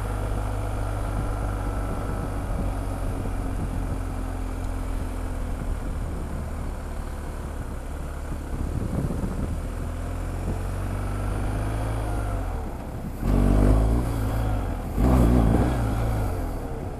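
Motorcycle engine during wheelie and knee-down practice in a parking lot, a steady droning run that swells into louder, rougher revving bursts near the end.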